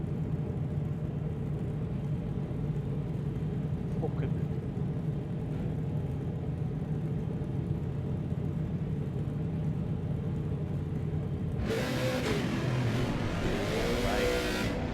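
A race car engine from Assetto Corsa Competizione, in a Nürburgring 24 Hours Nordschleife race, drones loudly and steadily throughout, turning harsher near the end, while a voice briefly exclaims.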